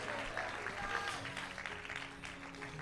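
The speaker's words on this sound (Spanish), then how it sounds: "Alguien le da un aplauso fuerte al Señor." A church congregation claps in sustained, dense applause that runs evenly throughout, with faint voices mixed underneath.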